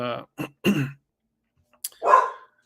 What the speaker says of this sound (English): sorry, my dog is so distracting